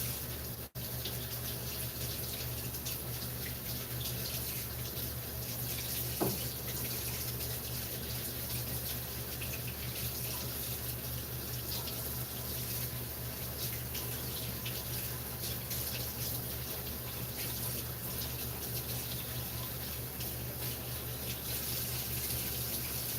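Carrots scrubbed under a steady running tap into a sink, a continuous rushing water stream lasting throughout with one brief knock partway through.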